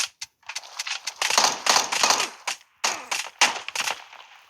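Rapid bursts of gunfire in PUBG Mobile's Metro Royale mode crackle in quick volleys with brief pauses between them during a boss fight, sharp and fairly loud, with no talking.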